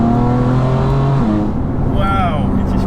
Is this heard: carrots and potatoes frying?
no